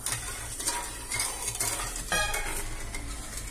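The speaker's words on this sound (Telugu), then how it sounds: "పంచదార కలిగేంత వరకు మనం పంచదార కలిగేంత వరకు తిప్పుకోవాలి" Sugar syrup for Mysore pak stirred in a pan with a spoon, a steady scraping swirl with soft sizzling underneath, close and continuous with no voices.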